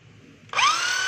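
A DeWalt D21710 1/2-inch drill is switched on for a test after servicing and spins up with a sharp onset into a steady, loud, high motor whine, close and alone.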